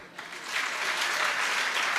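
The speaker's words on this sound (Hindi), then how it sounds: "इतनी जोरदार" Listeners at a Hindu religious discourse break into applause, a short burst of clapping that swells quickly and holds steady.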